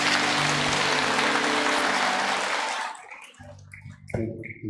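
A church congregation clapping at a Sunday service to welcome the pastor, a loud, dense, sustained burst of applause that fades out after about three seconds, followed by quieter scattered sounds.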